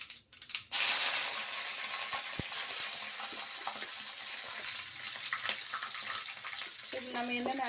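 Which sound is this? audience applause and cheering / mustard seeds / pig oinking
mustard seeds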